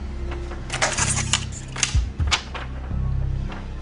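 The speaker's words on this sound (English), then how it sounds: "You want to try and crumple it?" A sheet of acetate being crumpled by hand gives a run of sharp, crackling crinkles and snaps in uneven bursts, fairly close and loud, over a low background hum.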